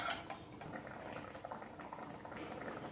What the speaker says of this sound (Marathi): इथे आमटीला मस्त अशी उकळी आलेली आहे